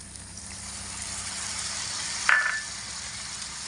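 Spice paste for a raw potato ghonto frying on a low flame, a soft steady sizzle with a brief scrape or clink of stirring near the middle, close and fairly quiet.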